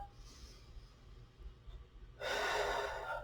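One breath taken while standing in yoga mountain pose: a sudden close, airy inhale that starts after a stretch of quiet room tone and continues steadily to the end, without speech.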